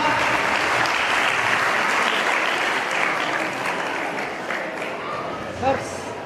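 An audience at an award ceremony applauds warmly. Steady, full clapping fills the hall and gradually tapers, while a voice speaks over it.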